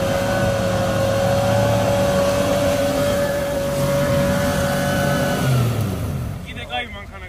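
A Toyota engine strains and revs steadily as it climbs an off-road track in Kakheti, a sustained loud drone that fades near the end, with people talking in the background.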